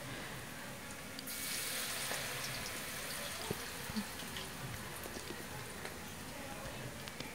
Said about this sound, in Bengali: দেখতে থাকো বড়াগুলো ভেজে নেই।